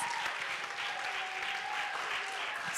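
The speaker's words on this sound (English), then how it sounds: "Okay, let's give them a round of applause" An audience at a children's summit in Kenya claps continuously, a dense, fairly distant patter of applause lasting the whole stretch, with faint voices mixed in.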